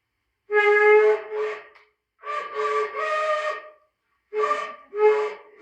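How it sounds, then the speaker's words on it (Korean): A shofar, a ram's horn, blown in three strong blasts with pauses between, each a bright, buzzing tone that breaks into shorter pushes, loud and close in a quiet room. "제가 한번 이 돌파의 소리로 한번 이렇게 뿔나팔 불고"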